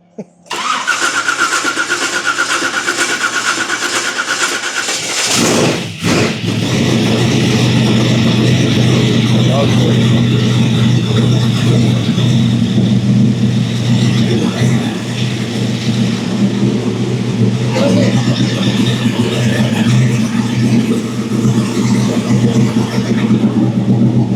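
A 1960 Cadillac engine, reportedly running on methanol, cranks, catches and roars to life, then settles into a loud, steady running rumble that continues without a break.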